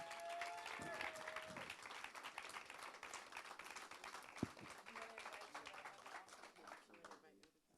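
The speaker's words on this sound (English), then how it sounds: "Please give a round of applause" Audience at a film screening Q&A breaking into sustained applause and cheering, a dense crowd clatter with scattered voices and a whoop, tapering off at the end.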